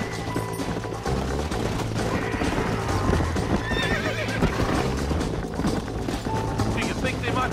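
Horse hooves gallop in steady clip-clop under a busy Red Dead Redemption game soundscape, with a horse neighing and whinnying, dense music and effects throughout, and voices speaking over the action.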